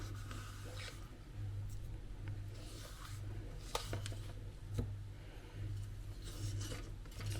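Soft, continuous rasping and scraping of a spatula scraping cocoa powder out of a coffee grinder, faint and close, with a steady low hum underneath and occasional small clicks.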